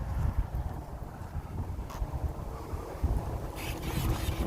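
Gusty outdoor wind buffeting a microphone at an RC plane flying session, a steady low rumble with louder swells and a brief higher hiss near the end, no speech.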